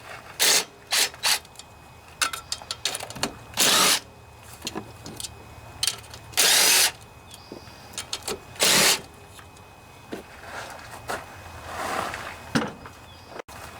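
A 3/8 socket wrench ratchets off the valve cover bolts of a Briggs and Stratton OHV Intek engine, giving repeated bursts of close, loud ratcheting clicks separated by short pauses.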